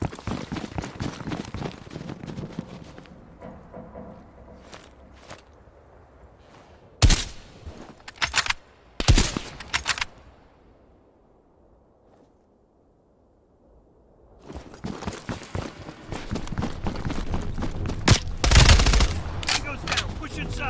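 Gunfire in the Black Ops Cold War campaign, played on Xbox Series S, crackles in loud sharp bursts over dense battle noise, drops into near silence, then returns to heavy continuous firing.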